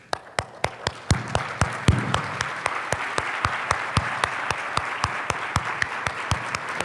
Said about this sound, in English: I'd love to give you an applause.